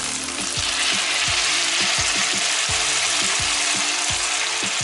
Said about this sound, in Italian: adesso coprite il tutto con il brodo vegetale